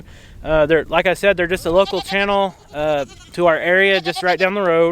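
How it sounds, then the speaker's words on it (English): Goats bleat on a homestead farm, their wavering cries mixed in and partly masked by someone talking steadily close to the microphone throughout. "you can hear all these goats crying and the turkeys gobbling"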